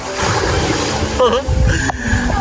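Big waves splash and slosh loudly and continuously near a beach at Tulay Buhangin, Padre Burgos, after a storm, with voices talking and calling over the surf.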